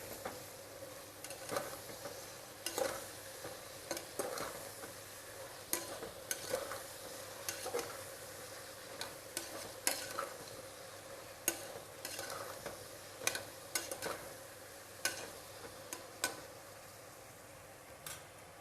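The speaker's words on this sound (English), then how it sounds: "The brinjal are well fried." Brinjal fried in oil in a pan while a spoon stirs and scrapes it, for vangibath: a steady close sizzle with frequent sharp utensil clicks and taps in an irregular rhythm, no voices.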